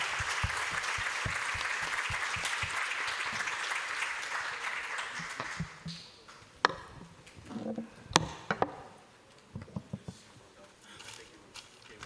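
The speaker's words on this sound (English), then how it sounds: "So please join me for a round of applause for all these panelists." Conference audience applauding a shipping decarbonization panel in Bali: dense, steady clapping for about five seconds, then thinning into scattered individual claps and a few sharp knocks over a quiet room.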